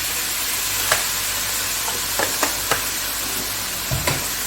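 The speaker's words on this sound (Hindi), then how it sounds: "इसमें डालूंगी 4 टेबलस्पून सोया सॉस" Soy sauce hits a hot, sizzling pan, giving a steady loud frying hiss with a few sharp clinks of a utensil scattered through it.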